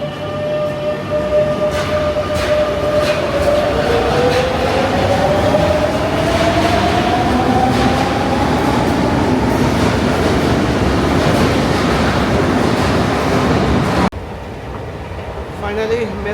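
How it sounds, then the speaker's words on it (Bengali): A Madrid metro train ride heard from inside the car: a loud continuous rumble and rattle of wheels on track with a rising electric motor whine, then a sudden drop to quieter ambience near the end. "ফাইনালি মেট্রো যাত্রা শেষ করে বের হয়ে যাচ্ছি"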